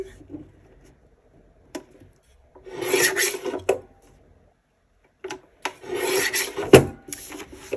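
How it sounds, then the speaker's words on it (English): Paper inserts for a cash envelope binder being trimmed, two separate bursts of close scratchy rasping cuts broken by a few sharp ticks and quiet pauses, with no speech. "Just trimming, trimming, trimming."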